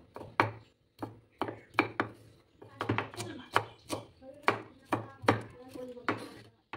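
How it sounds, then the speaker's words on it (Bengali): Two large onions being finely minced with a knife on a board, a rapid series of sharp close chops in uneven bursts with short pauses between runs. "এখানে আমি দুটো বড় সাইজের পেঁয়াজ একইভাবে কুচি করে কেটে নেব"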